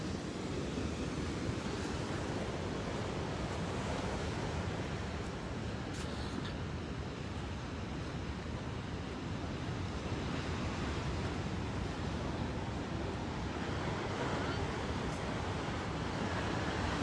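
Ocean surf at La Jolla, California, a continuous broad wash of breaking waves with some wind rumble, steady and loud throughout with no voices.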